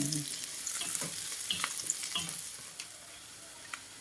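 A spice paste fries in a pan on a stove while it is stirred. A soft, continuous sizzle is broken by light scraping strokes, and it stays quiet throughout.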